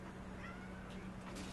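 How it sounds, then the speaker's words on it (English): A cat's faint, squeaky meows drift in the distance beneath a steady hum and background noise. "You might hear my cat squeaking in the background."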